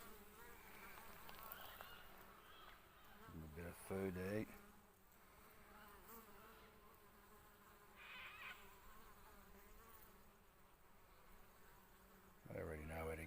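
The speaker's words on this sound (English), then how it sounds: "A few bees coming in." Bees buzz around a homemade wooden hive, a faint steady hum with a few louder close drone passes as individual bees fly near; a voice speaks briefly.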